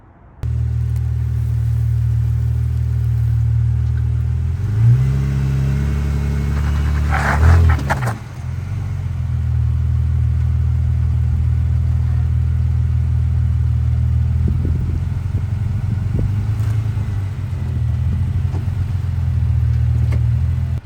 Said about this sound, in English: So let's see if I can make it up on this rock.